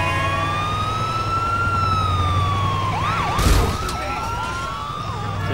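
A San Andreas ambulance siren in GTA IV, a steady wailing tone that rises and falls, then switches to quick yelping sweeps, heard over a low engine rumble with a brief loud crash midway.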